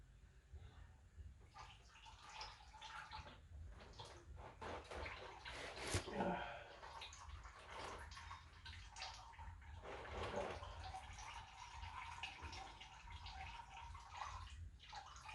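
Hot engine oil pours from a 2006-2008 BF Ford Falcon into a drain pan, a faint, continuous splashing trickle with some louder gurgles.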